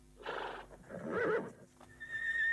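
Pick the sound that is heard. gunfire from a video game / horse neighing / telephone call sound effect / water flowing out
horse neighing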